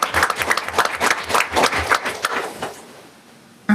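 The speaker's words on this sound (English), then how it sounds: "if we could just get a little round of applause for Peter for his service" A small round of applause at a school board meeting honours a departing member, with scattered individual claps from a modest room audience fading out after about three seconds.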